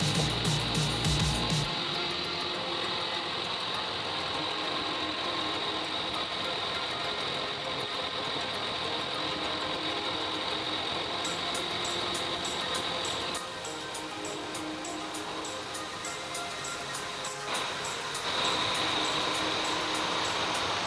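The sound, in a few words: truck engine knocking and squeaking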